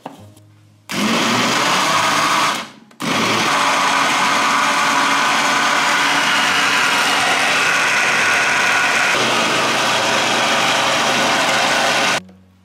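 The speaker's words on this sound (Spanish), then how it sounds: "Y ahora lo vamos a poner en la licuadora" A blender mixing waffle batter whirs loudly and steadily, starting and briefly stopping before running again for several seconds, then cutting off.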